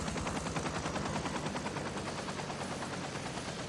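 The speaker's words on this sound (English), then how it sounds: "I hear a helicopter. there's a helicopter landing in." Helicopter descending to land in the video game Far Cry 3, a dense continuous rotor roar with rapid chopping pulses, loud and close, mixed with heavy game noise and no talk.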